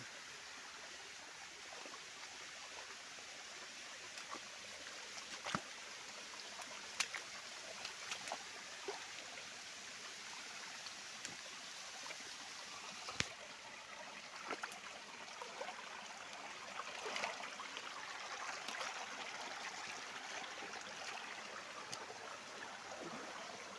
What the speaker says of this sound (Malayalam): ഞാനിന്നുള്ളത് നാട്ടിൽ തന്നെയുള്ള ഒരു വെള്ളച്ചാട്ടം